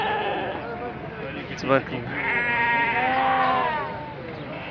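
Sheep and milk-fed lambs bleat at a livestock market, several wavering calls close by, the loudest late in the stretch, while someone talks over them.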